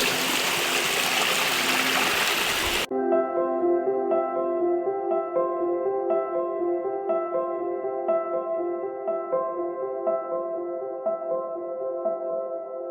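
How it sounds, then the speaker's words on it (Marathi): Water flows continuously at the Bhagirathi kund of the Shingnapur Guptling temple: a loud rush for a few seconds, then it cuts off abruptly and sustained ringing tones take over. "हे असं पाणी निरंतर वाहत आहे"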